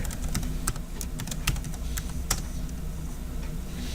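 Someone types a username and password on a computer keyboard, a quick irregular patter of close key clicks with a few sharper strikes and short pauses.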